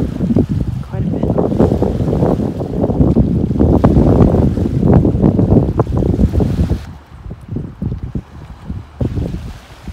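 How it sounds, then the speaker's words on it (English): Strong coastal wind buffets the microphone near Cornet Bay on Whidbey Island, a loud continuous roar with gusty swells that drops noticeably toward the end, with no speech. "The wind's picked up quite a bit."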